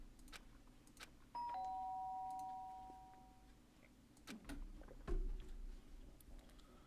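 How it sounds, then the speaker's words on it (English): Doorbell in the video game Danganronpa: Trigger Happy Havoc, a clear two-tone chime ringing once and fading, followed by faint clicks and thumps in a quiet room. "The sharp sound of the doorbell pierced my sleepy house and pulled me back in the real world"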